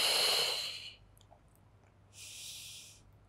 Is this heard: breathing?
yes